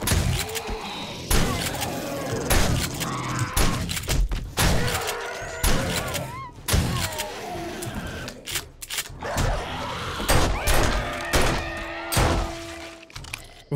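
A shotgun fires repeatedly in the survival game 7 Days to Die, loud close booming blasts at irregular intervals mixed with impact crunches and breaking sounds, with some talk.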